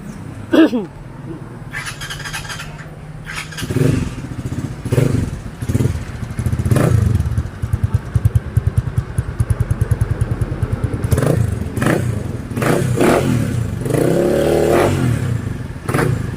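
Motorcycle fitted with an aftermarket chicken pipe exhaust, revving in a series of loud throttle blips followed by a sustained rumbling idle with rapid pulses, close to the listener.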